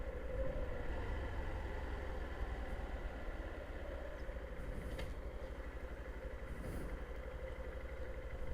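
A Honda CB125F motorcycle engine hums steadily and evenly in first gear, a continuous low drone heard close up with constant road and wind noise and no talking.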